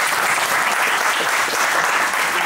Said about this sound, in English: I'd like to give Subhash a round of applause.